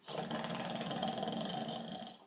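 A man imitates a snore with a loose jaw, a single sustained, rattling, growly breath of about two seconds, close and fairly quiet.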